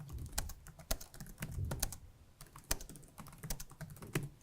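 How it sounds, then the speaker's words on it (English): Rapid clicking of keys on a computer keyboard, close and steady throughout, with no talking. "Now what you can do is actually quite literally type what you want."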